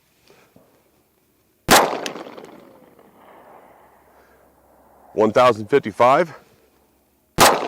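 Sharp, loud reports from a 9mm handgun firing subsonic hollow point rounds into ballistic gel, one near the start and another at the end, with talk in between.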